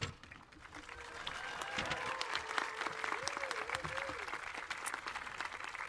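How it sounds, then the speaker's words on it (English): Audience applause for faculty at a 2022 convocation, a steady dense wash of clapping with some crowd noise that swells slightly and holds at a moderate level throughout. "invite you to give them a round of applause"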